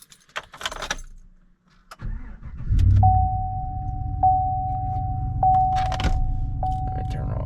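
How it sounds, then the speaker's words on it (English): Keys jangle, then a Chevrolet Silverado truck engine starts cold and settles into a loud, steady idle with a deep low rumble and a thin whine riding above, heard up close. "Love the sound of this truck."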